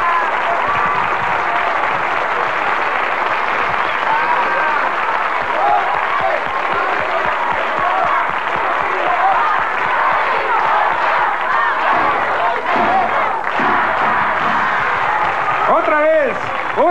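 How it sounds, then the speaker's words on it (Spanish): A live TV studio audience on the Mexican variety show Siempre en Domingo bursts into loud, sustained applause with cheering and whoops, steady throughout, with voices mixed into the crowd noise. "Aplauso fuerte, de veras, lo querían homenajear"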